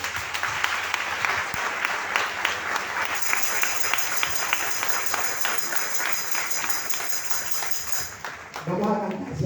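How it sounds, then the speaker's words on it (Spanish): Loud, sustained applause from a church retreat congregation fills most of the stretch, with cheering voices over the clapping before it fades and a singing voice begins near the end. "Fuerte aplauso a la palabra de Dios."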